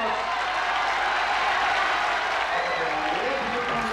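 A packed arena crowd applauds continuously at a 1984 UWF tag-team professional wrestling match, a dense, steady roar of clapping with a commentator talking over it.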